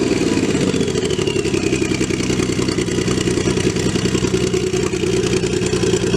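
Kawasaki Z1300 Turbo motorcycle engine running steadily close by, a loud continuous mechanical drone with clattering texture and slight rev fluctuations, no voices.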